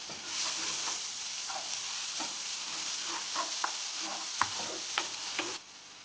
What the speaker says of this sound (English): Next, I'm going to add the garlic and onion, and I'm just going to let it saute to release the flavor.